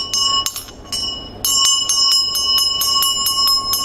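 A small ritual hand bell rings in repeated bright strikes, its sustained metallic overtones layering into a shimmering continuous ring, close and fairly loud with a faint low hum beneath.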